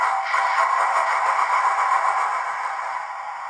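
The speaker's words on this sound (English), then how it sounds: "F6 wheel slip," Hornby Flying Scotsman model steam locomotive fitted with a TTS sound decoder playing its wheel-slip effect: a steady hissing, scraping rush with fast chuffing texture, constant and fairly loud throughout, easing slightly at the end.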